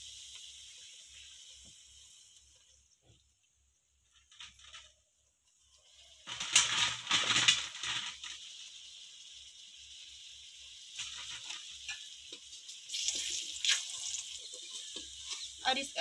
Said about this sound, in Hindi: इसमें घी से सिराएंगे इसको